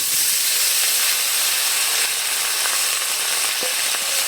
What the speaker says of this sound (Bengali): মশলাটা কষে দিয়ে দিলাম, সবজি নেড়ে চেড়ে নিচ্ছি।